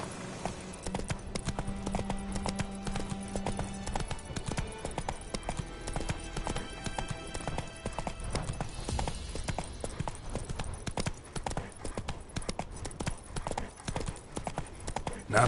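Horse hooves clip-clop in a fast, steady rhythm from The Witcher 3: Wild Hunt, a continuous gallop heard at moderate volume under faint game ambience.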